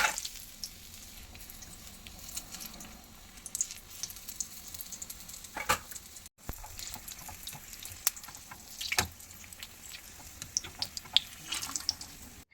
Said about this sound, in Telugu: గోల్డెన్ బ్రౌన్ వచ్చే వరకు వేయించండి.